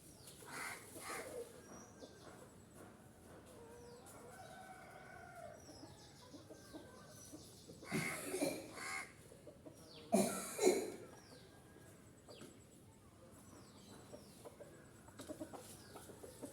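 Chickens clucking, scattered soft clucks with a couple of louder bursts of clucking and squawking midway, fairly near against a quiet outdoor background.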